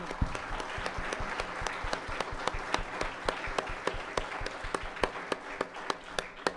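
Audience applause at a Wanda Diamond League press conference in Eugene, 2023, honouring Peter Matthews: a steady, dense patter of clapping with sharp individual claps standing out, moderately close and sustained, with no talk over it.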